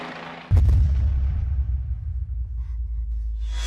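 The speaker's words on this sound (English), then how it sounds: "the resulting explosion is much larger than expected" A bomb dropped on a building roof sets off a stockpile of gasoline: a sudden heavy blast followed by a deep, rolling rumble that slowly fades.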